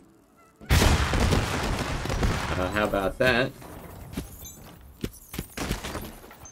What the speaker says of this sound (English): Firework launcher shoots exploding fireworks that split on impact